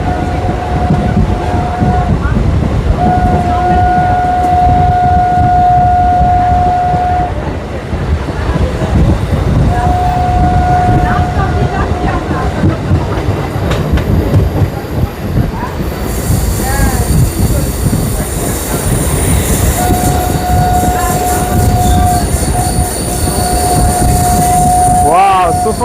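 A passenger train on the new Krishnanagar to Amghata route rumbles loudly and steadily throughout, with long, thin wheel squeals rising and fading and a brief voice underneath.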